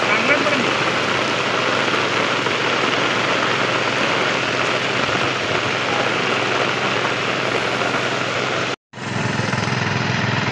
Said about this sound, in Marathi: पॉवर टेलर आहे तो सारखा 2 वेळा बंद पडला आहे